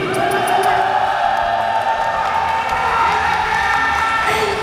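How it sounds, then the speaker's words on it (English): A crowd at an anime expo cheers loudly for the performer Shy Lily, a sustained mix of shouts, whoops and high voices with some clapping, dense and close throughout. "give another cheer for Shy Lily"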